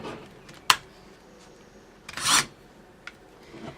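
A rotary tool rasps against the rough edges of a clamped feather bracelet in two short bursts, one sharp and brief and one longer grinding pass, with quiet pauses around them.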